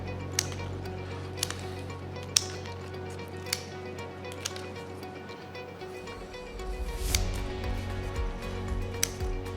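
Gold metallic ruscus stems trimmed for a flower arrangement give sharp, isolated snips spaced a second or so apart, close and clear over a low steady hum.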